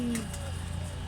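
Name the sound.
pet bird, pigeon-like cooing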